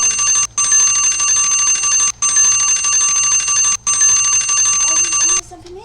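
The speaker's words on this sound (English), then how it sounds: "hit the notification bell" A bright ringing notification bell sounds in three sustained bursts separated by brief gaps, loud and close, with no voices over it before it cuts off.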